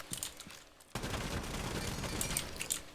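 Sustained gunfire tears through a breakable wall in Rainbow Six Siege while playing as Ash. A few faint shots come first, then a dense, loud barrage runs to the end.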